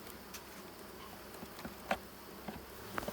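Honey bees buzzing in a faint, steady hum around an open hive during a hive split, with soft scattered ticks and clicks and no voices.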